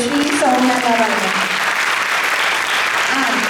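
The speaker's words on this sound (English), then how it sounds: "A big round of applause to Sri Soumya Narayanan." Loud, dense audience applause at a concert event in the Carolina Murugan Temple, honoring Sri Soumya Narayanan. It is sustained and even throughout, with a voice speaking over it at the start and again near the end.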